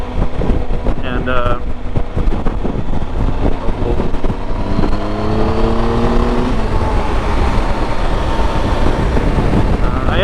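Steady engine drone of a 2020 Triumph Tiger 1200 Desert Edition motorcycle with loud wind buffeting the microphone, rising in pitch as it accelerates, a continuous close-up roar with no speech.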